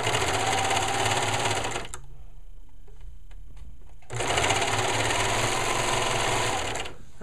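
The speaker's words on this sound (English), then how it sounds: "I'm going to go ahead and serge these, or you can use your straight sewing machine with your overlock stitch" A serger runs in two loud, steady bursts of rapid mechanical stitching while overlocking a T-shirt shoulder seam, separated by a short quieter pause with faint clicks.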